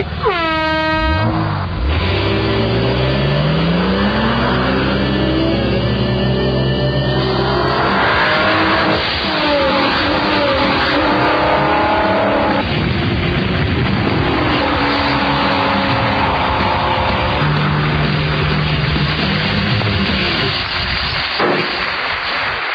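Race cars roar past during a race, engines revving and accelerating loudly with rising and falling pitch sweeps, joined by blaring horn-like tones, continuous and dense throughout.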